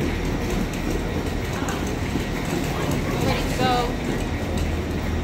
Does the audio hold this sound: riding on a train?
yes